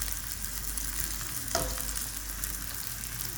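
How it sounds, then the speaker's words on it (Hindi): Onions sizzling and frying steadily in oil in a kadhai while being browned for haleem, a dense continuous hiss with a brief stir or scrape partway through, close and without speech. "अभी साथ में हम ये प्याज ब्राउन कर रहे हैं।"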